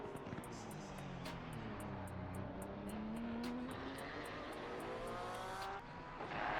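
A GT3 race car in a racing sim on a hot lap at the Circuit of the Americas, its engine note rising steadily through the gears at moderate distance and fairly quiet, with a brief dip near the end.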